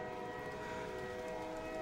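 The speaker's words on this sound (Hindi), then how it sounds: "ट्रेन की सीटी बज गई थी।" Train whistle sounding as a sustained, steady tonal blare with layered harmonic pitches, held continuously over a low rumbling background, moderately loud and heard without talk.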